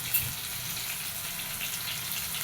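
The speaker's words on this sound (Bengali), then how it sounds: "এটা সবসময় হালকা আছে আস্তে আস্তে ফ্রাই করতে হবে" Chicken pieces frying slowly in oil for a spicy red curry, giving a steady, dense crackling sizzle close by that keeps an even level throughout.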